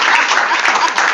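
Audience applause fills a seminar session room, dense and steady clapping from many hands, loud and close throughout without a pause.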